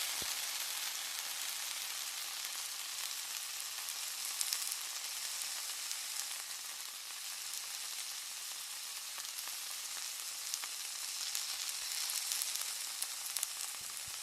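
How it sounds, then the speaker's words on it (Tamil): Pieces of Loku fish fry in hot oil for a Sri Lankan fish chili, giving a steady, dense, crackling sizzle that holds evenly throughout at close range with no talk. "எண்ணெய் லைட்டாக சூடானதும் மீனை பொரிக்கலாம்."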